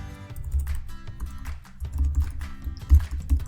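Typing on a computer keyboard, close and crisp, produces a quick irregular run of key clicks and taps with short pauses between bursts.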